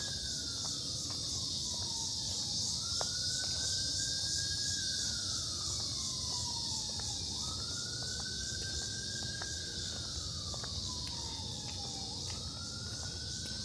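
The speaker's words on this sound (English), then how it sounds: "Listen to those cicadas." Cicadas droning outdoors on the grounds of the Harry S. Truman Library in Independence, Missouri, a loud steady high buzz that rises and falls in slow repeating waves over the whole stretch, with no talking.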